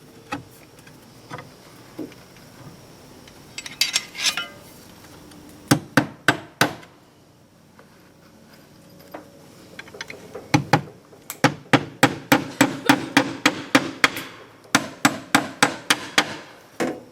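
Short bursts of hammer taps trim roof slate for a cabin roof, sharp and close, in quick clusters separated by quiet gaps, then a longer steady run of rapid knocks.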